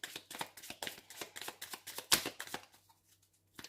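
Lenormand cards being shuffled in a quick series of crisp riffling bursts, close and fairly quiet, with one louder snap near the middle before the shuffling fades out.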